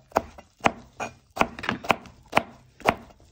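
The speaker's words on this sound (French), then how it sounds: "Donc le céleri, par contre, je vais vous montrer comment on le coupe" Celery is cut with a knife on a board in a steady series of about eight crisp, close chops, evenly spaced and alone with no voices.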